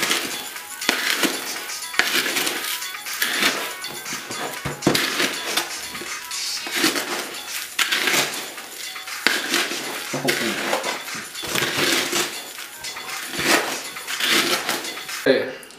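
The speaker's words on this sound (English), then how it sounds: "And then you kind of stir it all together." Chocolate crackles mixture stirred in a bowl, with repeated clinking and scraping of a spoon against the dish in an irregular rhythm, loud and close, while someone talks over it.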